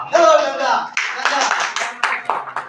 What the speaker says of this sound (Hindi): ताली अपने लिए मारो।